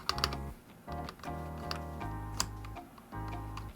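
Typing on a Shurikey Hanzo mechanical keyboard with lubed stabilizers: close, crisp clacking keystrokes in quick uneven bursts, with a few heavier stabilized key presses standing out.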